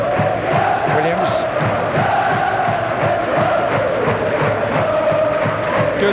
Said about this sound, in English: Good support from the home crowd